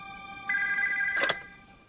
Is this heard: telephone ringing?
yes